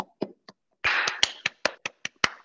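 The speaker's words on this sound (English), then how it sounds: "let's give Mr. Charles Brown a big round of applause" Sparse clapping at a working group meeting, several distinct hand claps spaced irregularly after a brief rustling burst, near and fairly dry, with no talk over them.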